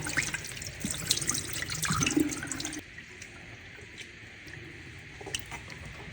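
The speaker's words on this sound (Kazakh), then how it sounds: "Мынау енді керек емес, бұл суды төгіп тастаймын." Water used for washing barley is poured out, a close splashing gush for about three seconds that then drops to faint trickles and drips.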